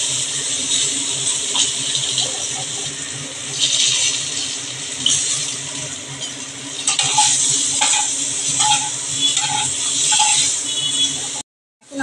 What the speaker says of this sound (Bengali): আমি একটু নুন হলুদ দিয়ে আবার বেগুনটা ভেজে নেব।